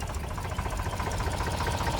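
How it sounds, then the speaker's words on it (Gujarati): A tractor engine chugs steadily nearby in a village, a continuous rumbling idle with a regular knocking pulse and no talk. "ટ્રેક્ટર ચલાવે છે"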